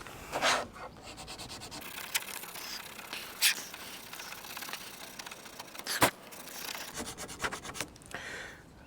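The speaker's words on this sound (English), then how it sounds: "So we'll get some sandpaper and just sand this down very slightly." Sandpaper rubbed by hand over a wooden zero-clearance insert for a Bosch GTS10 table saw, giving a quiet, scratchy rasp in short uneven strokes, with a few sharper scrapes along the way.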